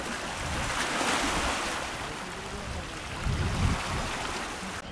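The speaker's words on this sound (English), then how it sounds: "This is the middle beach in Parmenova, and a few more people out here." Surf washing onto the middle beach at Palmanova, a steady broad wash of breaking waves with a slightly louder surge near the end, mixed with wind buffeting the microphone.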